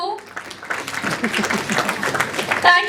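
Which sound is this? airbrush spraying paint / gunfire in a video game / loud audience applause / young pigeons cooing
loud audience applause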